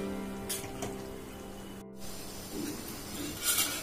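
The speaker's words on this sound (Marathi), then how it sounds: "पाण्याला आता व्यवस्थित उकळी आलेली आहे" Water comes to a rolling boil in a cooking pot for biryani rice, a soft, steady hiss with faint bubbling at low volume.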